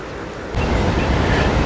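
Water rushes over a dam on the James River in Richmond, a loud, broad continuous roar that swells abruptly after a quieter start and holds steady.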